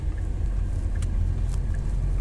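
A car with a fault runs steadily, giving a constant low engine rumble under a layer of hiss and static, with no talk.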